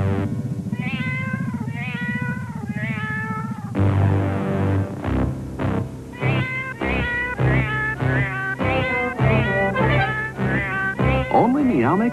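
Cats meow repeatedly in a Meow Mix cat food commercial, a string of close, clear meows set in a rhythmic, sung-like pattern over a background music bed, with no talking.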